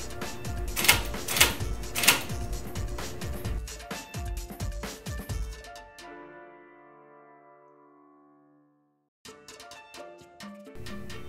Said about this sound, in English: I just finished typing out the first page of my thesis on the IBM Selectric.